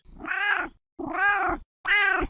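A cat gives three long, loud meows in succession, each separated by a brief silence, close and clear.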